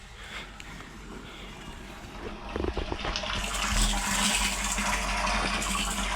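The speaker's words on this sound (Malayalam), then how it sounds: "വെള്ളം അതിലേക്ക് കയറുന്ന ശബ്ദം നല്ല വരുന്നുണ്ട് കേട്ടോ." Water pours into a water tank as a low, steady gush that swells louder and brighter halfway through, with a few light knocks and splashes.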